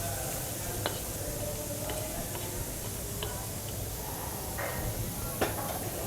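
Dry fruits being stirred into a pan for undralla payasam, a soft continuous sizzle with a few sharp scraping clicks of the spoon, steady and close.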